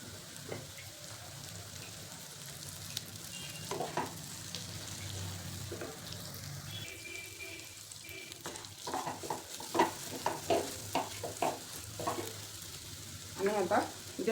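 Semolina sheera cooking with ghee, a faint, continuous sizzle with scattered stirring scrapes and taps that grow louder and busier toward the end.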